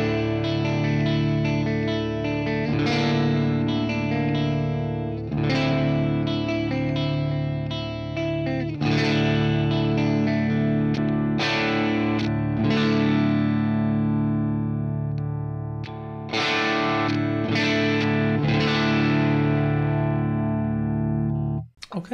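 Electric guitar chords and single notes ringing out clean and full through the clean channel of a Friedman JJ Jr 20-watt all-tube amp head, played continuously with a warm sustained tone.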